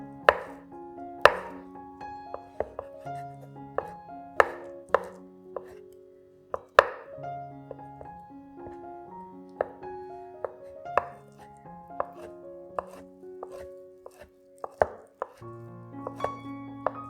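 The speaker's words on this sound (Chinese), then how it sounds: "香菇浸泡软后，也一样切碎，放入碗里备用。" A knife chops soaked shiitake mushrooms on a cutting board in a home kitchen, with irregular crisp thuds in short bursts over steady soft background music.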